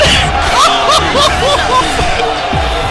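A crowd at a varsity hockey game between DRS and North Shore erupts in loud, continuous cheering and shouting, a dense roar of many voices with scattered yells rising out of it.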